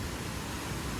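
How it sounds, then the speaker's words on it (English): A steady, dense rush of falling water, like a small waterfall close by, constant and unbroken throughout. "Love this little waterfall."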